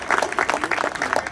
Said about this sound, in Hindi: मैं चाहूंगी तालियां बजाकर ऐसे सदस्य का स्वागत करें